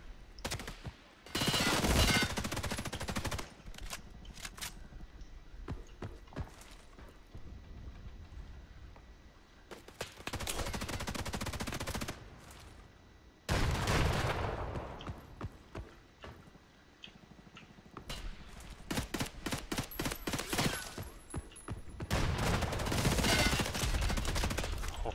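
Bursts of X95R rifle gunfire in the shooter game Hired Ops, loud and close, coming in rapid volleys separated by short lulls, with a long run of crisp single shots near the end.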